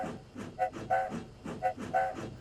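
A steam engine's faltering whistle sounds in short, wavering tonal bursts that keep breaking off, set over a rhythmic chuffing rumble at moderate distance, with no voices.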